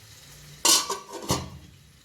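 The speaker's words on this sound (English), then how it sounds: "Now we'll boil this gravy for 5 minutes. So with the high flame." Fish curry gravy cooking over a high flame, with a sharp clank of a pot or spoon, a brief burst of bubbling and a second clatter against a quiet background.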